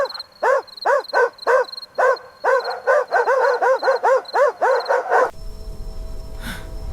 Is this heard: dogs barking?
yes